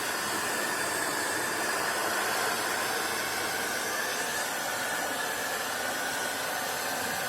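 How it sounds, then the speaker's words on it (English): A hot air gun blows steadily while warming bituminous backing in a Transit van being converted to a motorhome in freezing weather, giving a constant loud hissing roar with no pauses and no talk. "the advantage is the hot air gun does tend to blow any loose dust away as well"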